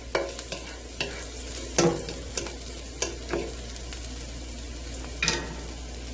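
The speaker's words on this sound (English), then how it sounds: "you're going to want to keep stirring this and cook it for another 2 minutes" Sausage and garlic sizzling in a pan on the stove, a steady close frying hiss broken by repeated scraping stirs of a utensil against the pan, with no talking.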